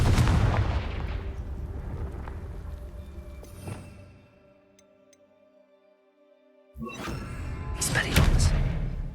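Confringo blasting spell in Hogwarts Legacy, heavy booming explosions with rumbling decay, a quiet stretch of ringing tones in between, then a second loud burst of blasts near the end.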